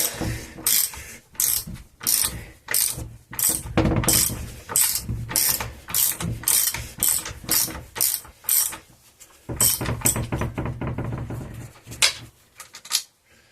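A hand ratchet loosens a small bolt on a Ford Powershift gearbox during a strip-down, giving rapid bursts of sharp metallic clicks in uneven strokes, close and loud, with brief pauses between pulls.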